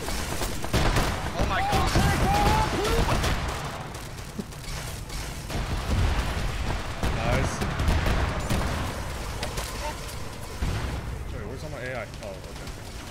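Arma 3 firefight with a Halo-themed mod: sustained gunfire crackling through the whole stretch, dense and fairly loud, with people talking and shouting over it.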